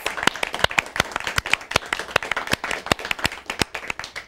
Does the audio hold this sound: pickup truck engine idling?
no